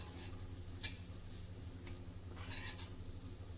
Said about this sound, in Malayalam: ഇതും കൂടി നന്നായിട്ടൊന്ന് ഈ വഴുതനങ്ങയായിട്ട് മിക്സ് ചെയ്ത് കൊടുക്കുക